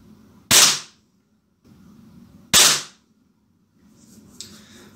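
Two sharp, loud air pistol shots from an HW40 or Beeman P17, about two seconds apart, each with a short decay, against a quiet indoor background and a faint small click at the end.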